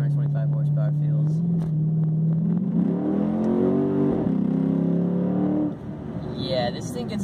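A 2007 Chrysler 300 SRT8 with a 425-horsepower engine accelerating, a deep close rumble climbing steadily in pitch through the revs, then a gear change and drop-off with someone speaking over it.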